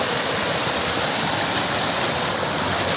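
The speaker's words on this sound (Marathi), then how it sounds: "इथे धबधबा आहे वरून पडतो धबधबा" Steady, continuous rush of a waterfall and flowing stream, loud and close, a broad hiss that never lets up.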